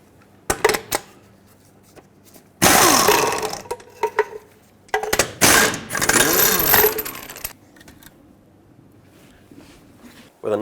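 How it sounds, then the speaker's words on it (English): An impact wrench or power tool loosens lug nuts on a 1996-2002 Toyota 4Runner front wheel in several loud, close bursts of a few seconds each. Quieter clinks and handling noises fill the gaps between bursts. "remove all 6 of your lug nuts"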